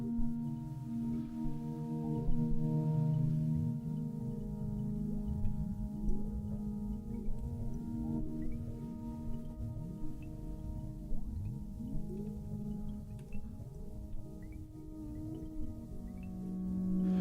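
A sustained modular synthesizer tone with long modulation, slowly sweeping pitch glides and drips layered over steady harmonic drones, evolving continuously without pause.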